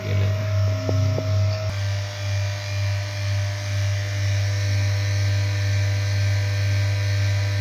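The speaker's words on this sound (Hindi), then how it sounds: "वैक्यूम होने के बाद साउंड इस प्रकार से मशीन करता है।" A vacuum pump drones with a steady low hum and faint rhythmic throbbing, running continuously after a brief click at the start, while evacuating a refrigerator's system for gas charging.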